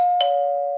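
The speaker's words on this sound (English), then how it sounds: "There's the doorbell." A doorbell rings once, a steady electronic tone sounding clearly with a brighter chime strike partway through and a sustained ring that holds to the end, loud and alone with no talking.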